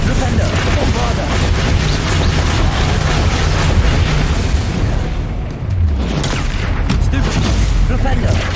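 Booming spell blasts from the Bombarda spell in the Hogwarts Legacy video game, loud and continuous, layered with rapid bursts and pops of combat that barely break for a moment midway.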